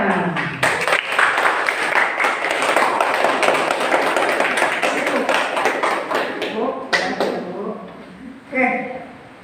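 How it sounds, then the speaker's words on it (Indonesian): A classroom of students applauds at the close of a lesson: dense, sustained clapping for about eight seconds, then it tapers off and a brief louder burst follows near the end. "Tepuk tangan."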